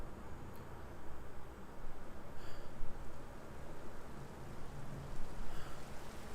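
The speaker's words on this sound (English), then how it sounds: "the long, gentle hiss of rainfall touching down" Steady rain hisses without a break in a game scene, a dense, even wash of falling water with faint scattered drips, heard alone with no voices.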